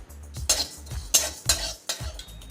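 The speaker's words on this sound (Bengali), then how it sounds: "এক চামচ হচ্ছে মৌরি এক পনে এক চামচ মেথি আর রাঁধুনি এটা আমি একটু ভেজে নেবো" Fennel seeds, fenugreek and radhuni dry-roasting in a hot wok, with a series of distinct scraping, clinking stirs at a steady rhythm, close and fairly loud, without any talking.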